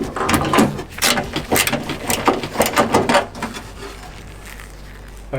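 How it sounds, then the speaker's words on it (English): Socket wrench ratcheting as it undoes a bolt on a Tesla Model Y taillight, a run of quick clicking bursts close up, easing into quieter turns toward the end. "I'm just gonna use the socket wrench to do it easier."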